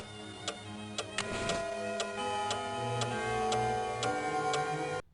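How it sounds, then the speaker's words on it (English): Clock ticking in The Vampire Diaries video game: about nine sharp, evenly spaced ticks over a steady sustained musical drone, with no speech. "Well, it goes to this clock."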